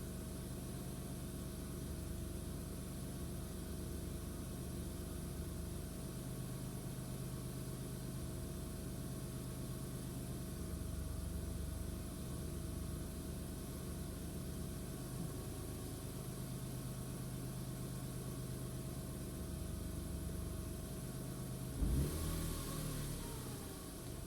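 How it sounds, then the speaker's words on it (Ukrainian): A 2000 Smart Fortwo 450 engine hums steadily during clutch actuator diagnostics, its pitch and strain rising and falling as the load shifts, with a brief clunk near the end. "Я чую, як міняється нагрузка на двигун."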